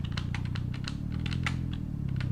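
Computer keyboard keys tapped repeatedly while steering a parked Waymo car in a browser game, a steady run of light clicks over a constant low hum.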